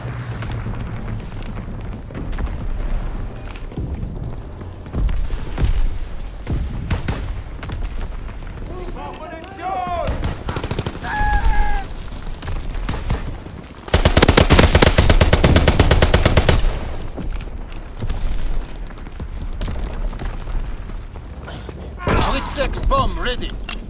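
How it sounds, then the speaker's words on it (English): Machine-gun strafing from a fighter plane in Call of Duty WWII team deathmatch on a flak tower map, a dense loud burst of rapid automatic fire lasting a few seconds amid scattered distant gunfire, booms and game voices. "Fighter pilot inbound, strafing the target."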